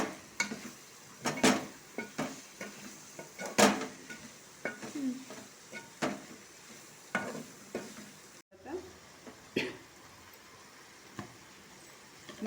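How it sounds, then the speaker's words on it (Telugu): Spoon scraping and stirring fried bitter gourd pieces in a pan, a run of close, irregular clatters and scrapes with light sizzling underneath, pausing briefly before more stirring strokes. "ముందుగా వేయించుకున్న కాకరకాయలు మొత్తం కలుపుకోవాలి ఇలా"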